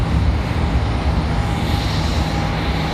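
Southwest Airlines jet moving across Charlotte Douglas International Airport, a loud, steady engine roar with a faint whine, heard from a distance outdoors.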